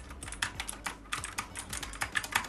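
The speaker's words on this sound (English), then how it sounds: "You can hear the buttons, the way they click." Keys click on a Baseus GK01 gaming keyboard, a quick irregular run of crisp, close typing taps with brief pauses between bursts.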